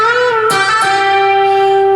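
Electric guitar playing a sustained lead lick, with hammer-ons, pull-offs and a bend, ringing notes close and loud, alone without talk.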